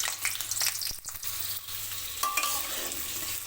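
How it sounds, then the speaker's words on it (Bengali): Cut potatoes fry in hot white oil in a wok, a steady close sizzle and crackle with occasional stirring scrapes, with no voices. "আলুগুলো কিছু সময় ভেজে নেব"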